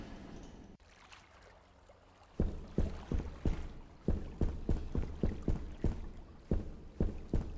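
Rhythmic splashing and sloshing of water from a boat moving in a video game, with regular strokes repeating close by after a brief quieter start.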